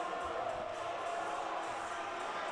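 A crowd at a high school basketball tournament game, a continuous dense roar of cheering and shouting that holds steady throughout, fairly loud and diffuse, with no single voice standing out.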